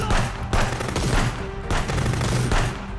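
Machine gun fire in the Contraband Police video game, rapid bursts repeating in roughly half-second pulses, loud and continuous over the whole stretch.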